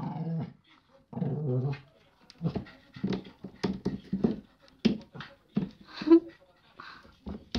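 A poodle growls and snarls angrily at a bucket holding its bone, repeated short rough bursts with panting and scuffling, close by, mixed with a person's scolding voice.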